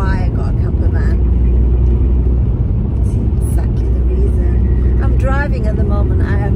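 A campervan drives along with a steady low road and engine rumble filling the whole stretch, while a voice talks over it and a few faint higher tones come and go.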